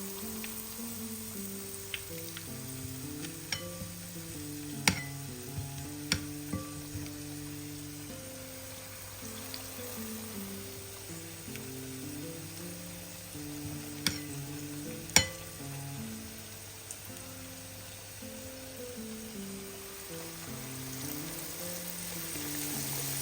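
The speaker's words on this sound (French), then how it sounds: "Et une fois que c'est fait, on fait frire." Battered fish pieces, coated in a turmeric-tinted batter for fish and chips, deep frying in hot oil, giving a steady close crackling sizzle throughout with a few sharper pops along the way.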